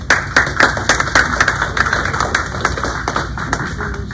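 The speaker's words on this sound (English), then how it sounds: "We'll give another round of applause." Applause from a town hall crowd greeting a newly introduced village supervisor, a steady wash of many hands clapping close by, with a constant electrical hum underneath.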